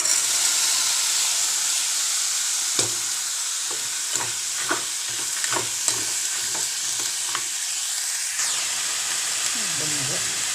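Chickpeas fry in a pan with turmeric, ginger-garlic paste and curry leaves, a steady loud sizzle and hiss broken by repeated stirring scrapes and clinks, with faint voices now and then.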